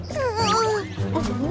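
A cartoon cat character gives a loud, drawn-out, wavering meow close up in a children's song, with a second shorter mew following.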